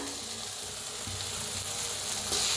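Chopped onion and grated coconut roast in oil in a pan for a village-style chicken dish, giving a steady, close, even sizzle with a slight rise near the end and no talking.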